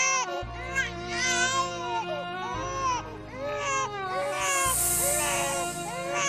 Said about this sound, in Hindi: इस घने जंगल में किसका बच्चा रो रहा है?